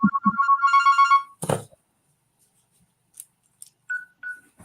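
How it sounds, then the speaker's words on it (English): A phone ringtone plays a repeating electronic melody of short bursts, close and fairly loud, then stops abruptly; a rustle and faint scattered clicks and tones follow. "Is that my phone or your phone?"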